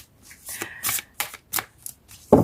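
Tarot cards being shuffled and handled in several quick riffling bursts, close by, ending with a louder slap of cards.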